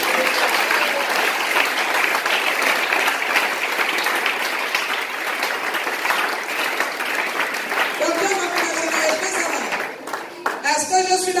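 Church congregation applauding steadily, a dense wash of clapping from many hands filling the room, with voices and cheers rising near the end.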